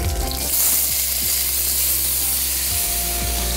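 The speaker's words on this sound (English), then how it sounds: "The butternut goes straight into the pan." Butternut squash sizzles steadily in a pan with whole spices, a loud continuous frying hiss with occasional soft scraping, and no voices.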